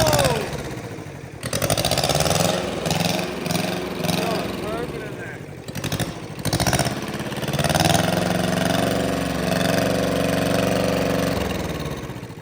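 A mini dozer's small motor cranks and catches, then runs with a steady mid-pitched drone that rises and dips as it is revved, loud and close, with people talking over it.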